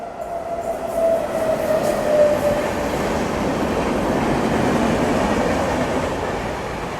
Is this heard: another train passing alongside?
yes